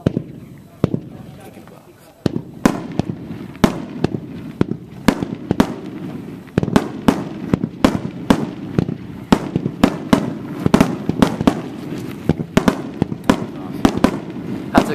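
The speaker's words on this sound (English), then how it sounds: "That must have been that titanium salute 16 shot cake." A titanium salute 16-shot fireworks cake at a fireworks event, a rapid series of sharp, loud bangs in irregular succession for the full length, with some crowd noise beneath.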